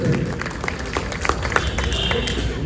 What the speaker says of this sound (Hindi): जोरदार उनके लिए ताली हो जाए।